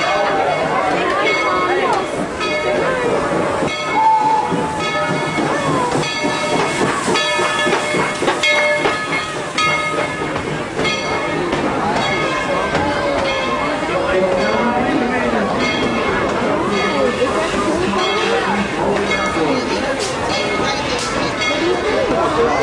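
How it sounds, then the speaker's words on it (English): A train pulls into a station with steady rumbling, hissing and clattering wheels, loud and close throughout, while people talk over it. "Where the train's gonna come in. Here it comes"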